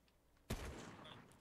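A single gunshot in the Fortnite video game, a sharp loud crack followed by a decaying reverberant tail after a quiet lead-in, no talk.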